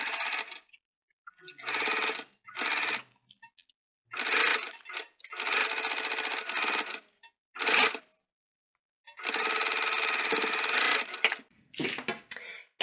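Sewing machine stitching a bum bag lining in a series of quick, close bursts separated by short pauses, with no voices.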